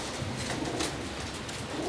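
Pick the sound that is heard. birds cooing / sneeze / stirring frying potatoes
birds cooing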